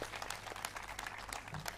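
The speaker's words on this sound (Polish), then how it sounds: "Wielkie brawa!" A concert audience applauds to welcome a singer on stage at her 2023 benefit show, a brief and fairly faint burst of clapping from the crowd.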